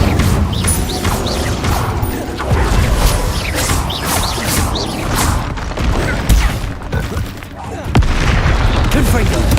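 Incendio fire spell cast repeatedly in Hogwarts Legacy, heard as dense, continuous bursts of fiery whooshes and booming impacts mixed with other combat effects, loud throughout with a brief dip near the end.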